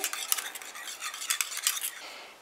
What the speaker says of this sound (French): je mélange pour qu'elle fonde un petit peu